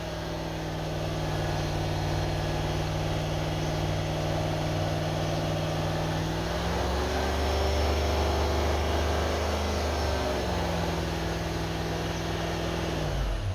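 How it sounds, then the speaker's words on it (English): A diesel car engine is held at roughly 2000 revs while a particulate filter cleaner is used. It gives a steady, loud, close drone that climbs briefly in pitch midway, then settles back. No one talks. "I'll now start revving it up to about"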